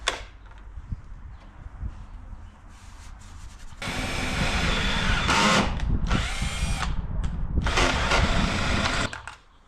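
A power drill bores holes into a driftwood workbench top, a loud, close, sustained grinding whir running for several seconds with a brief dip midway, after quieter handling noises.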